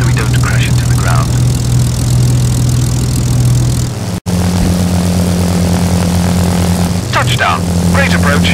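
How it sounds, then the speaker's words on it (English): A propeller fighter plane touches down on a runway in the World War II flight game Secret Weapons Over Normandy, its steady engine drone loud and close, cutting out briefly, then resuming with a deeper hum as it rolls out. "Now, gently touch your plane down."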